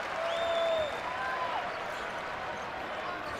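A basketball arena crowd in Boulder at a Colorado men's game cheers and applauds in a steady roar after a made basket, with whistles and tonal sweeps riding over the noise.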